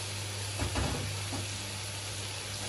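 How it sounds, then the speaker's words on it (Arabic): Vegetables cooking in tomato sauce for an Egyptian turli casserole, a faint steady sizzle and simmer with a brief stirring scrape, heard close with a constant low hum underneath. "دول هخليهم يتسبكوا مع الصلصه"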